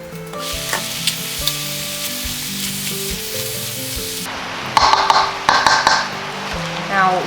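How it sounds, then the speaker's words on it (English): Stir-fry noodles in a covered pan give off a steady loud sizzle and hiss, with clinks of the lid and utensils and a voice talking over parts of it. "I'm just going to cover it and let it steam for a few minutes."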